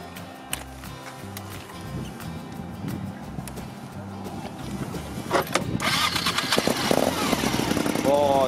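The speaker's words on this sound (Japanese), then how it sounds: "それではエンジンの音聞かせてください。" A 1998 Suzuki TL1000S V-twin motorcycle engine, Canadian spec, starts up and settles into a close, loud, uneven idle, with some talk in the background.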